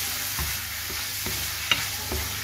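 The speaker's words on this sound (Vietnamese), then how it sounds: "Cho bún khô vào, các bạn trộn đều lên" Dried rice noodles being stir-fried in oil in a pan, a soft steady sizzle with a few light scraping stirs, faint and fairly close, with no voices.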